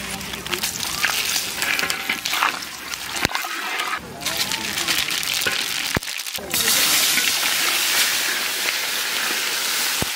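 Dry red chili, bay leaf and cumin hit hot oil left from frying fish, a loud crackling sizzle with splattering bursts, a couple of sharp knocks, and a swell to an even fiercer hiss at the end.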